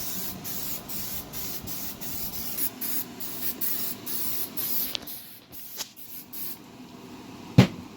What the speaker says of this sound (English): Spray as much as you possibly can. Nice coating.